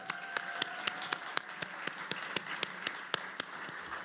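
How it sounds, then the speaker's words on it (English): Scattered claps from a small audience greeting a live painter at a livestreamed event, a series of sharp individual hand claps at a moderate distance over a quiet room. "give her a round of applause"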